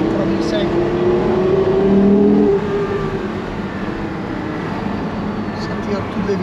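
A Porsche Carrera GT's naturally aspirated engine pulls hard through the gears, a loud, steady engine roar with a rising tone that swells and then eases, heard from inside the car with people talking over it.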